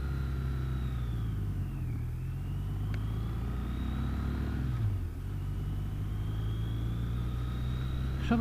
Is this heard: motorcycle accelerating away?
yes